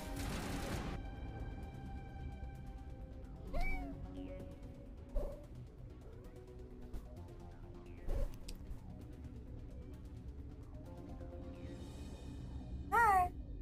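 A cat meows a few times in short, spaced-out calls over a quiet, music-like background, with the last meow the loudest and most drawn out.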